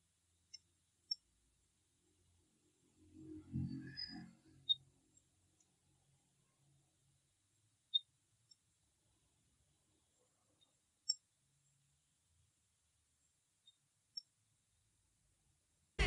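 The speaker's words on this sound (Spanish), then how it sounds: "un termostato en buen estado debe producir un clic" An Oster clothes iron thermostat gives several small sharp clicks, spaced a few seconds apart in a quiet room, with a brief soft rustle of handling near the start.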